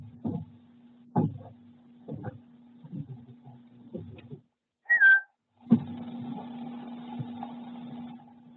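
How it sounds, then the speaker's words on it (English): A Dynamark security camera, powered by Alarm.com, sounds its deterrent whistle at a home front stoop as kids approach: a brief, loud, sharp whistle blast cuts in after some muffled footsteps and bumps, followed by a steady humming tone. "So hopefully you all could hear that whistle."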